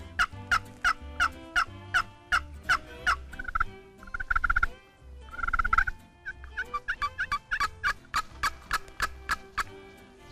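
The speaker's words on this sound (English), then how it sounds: "when you hear birds on the roost" Repeated loud wild turkey gobbles ring out in quick bursts from the roost in Georgia, several birds calling over one another with short pauses between volleys.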